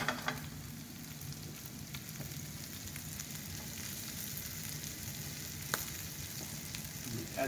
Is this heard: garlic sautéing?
yes